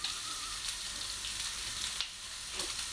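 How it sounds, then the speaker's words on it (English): Big-cut onions frying in a drop of oil, a steady close hiss of sizzling with a few brief scrapes of stirring, no talking. "I want just a drop of oil. I want to get my onions and my carrots in."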